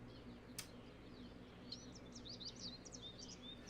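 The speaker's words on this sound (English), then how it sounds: "I'm going to have to mute my lovely bird sound" Birdsong ambience plays softly over a steady low hum in a virtual office, with scattered chirps and short tweets rising throughout and one sharp click near the start.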